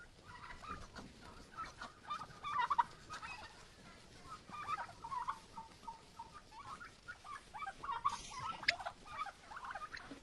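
Turkeys gobble and chatter repeatedly at low to moderate volume, a busy flock sound over faint outdoor ambience in a snowy village yard.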